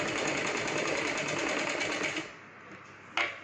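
A sewing machine runs steadily while stitching a lehenga, loud and continuous for about two seconds, then slows and stops, followed by a brief sharp click.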